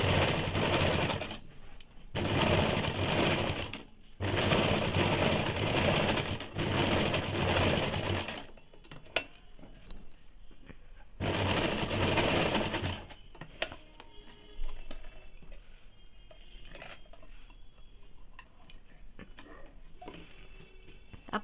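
A sewing machine stitches a semi salwar in several loud, steady bursts of rapid mechanical whirring, separated by short pauses, followed by quieter clicks and handling sounds.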